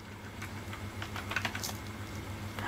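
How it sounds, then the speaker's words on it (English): Someone types on a computer keyboard in a short burst of soft, uneven key clicks, close and fairly quiet. "Simply go to search and type Messenger"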